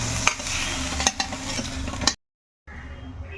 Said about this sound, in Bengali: এখন এই যে চিংড়ি মাছগুলো ঢেলে ফেলবো।